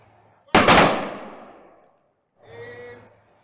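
A ceremonial rifle volley from an honor guard at a Veterans Day program: one sharp, loud, simultaneous crack that rings out and decays over about a second, followed by a quieter metallic clatter of rifles being handled.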